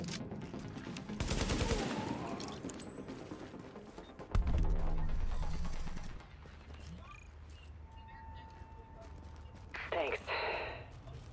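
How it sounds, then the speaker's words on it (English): Rapid handgun fire in The Division video game, quick bursts of shots in two dense rattling volleys, with someone talking over and between them. "What the heck kind of single hand gun do you got that lets you shoot like you're shooting a fucking minigun?"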